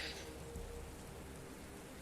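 Rain falls in a steady, even patter, faint and continuous across the whole stretch, with no voices.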